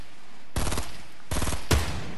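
Three sharp gunshot bursts in the video game Fortnite, each a loud crack with a short rattling tail, spaced apart over a quiet background.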